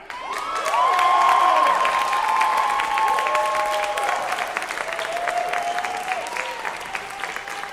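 A concert audience at Ford Hall claps loudly and cheers, with whoops and shouts rising above dense, sustained applause that eases slightly toward the end.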